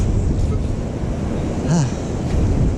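Wind gusting across a wintry beach with surf rolling in, a steady loud rush buffeting the microphone, with a brief faint voice partway through.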